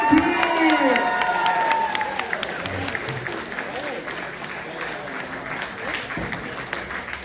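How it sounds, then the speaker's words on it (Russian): Audience applause with some cheering as a singer is welcomed at a concert, clapping strongest at the start and gradually thinning, with voices and tonal sound in the opening seconds. "Под аплодисменты!"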